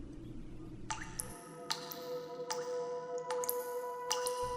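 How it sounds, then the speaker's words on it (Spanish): Water drips as a sound effect: a slow, irregular series of crisp, ringing drops, five or six plinks in quick succession over a quiet, faintly humming background. "eso provocaba un sonido parecido al del goteo de agua"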